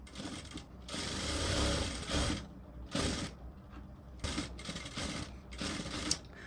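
A sewing machine runs a double line of stitching on a blouse in several bursts of whirring mechanical chatter, each lasting about a second, separated by short pauses. The sound is close and fairly quiet.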